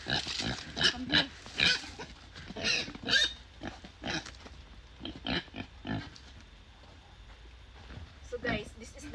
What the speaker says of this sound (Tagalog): this is the pig that I'm going to slaughter